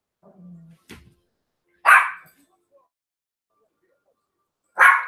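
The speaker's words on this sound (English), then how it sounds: "You better not bark at me, Rose." A dog barks twice, close and loud, each a sharp single bark separated by a few seconds of quiet, with a faint brief sound just before.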